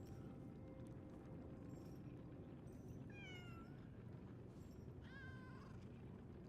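A kitten in a zoo video game gives two soft, high meows a couple of seconds apart, faint over a steady background hiss.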